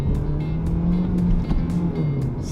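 A car pulls away in first gear, its engine a steady, droning hum that swells slightly and then eases off, loud and close from inside the car, with no talking.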